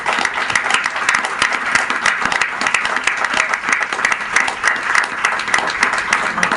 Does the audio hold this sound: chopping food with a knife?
no